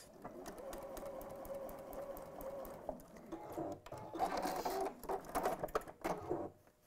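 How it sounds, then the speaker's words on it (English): A home sewing machine runs in a steady mechanical whir while stitching all the way along a length of fabric, pausing briefly midway before resuming in shorter bursts, close and clear throughout. "Just gonna sew all the way along, so I've just got a little bit of leverage."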